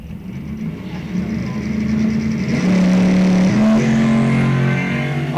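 Drag racing cars launch down the strip at a $7,500-class bracket event, a chop top Camaro among them, with loud, close engine roar that swells and holds steady, pitch shifting as they pull away.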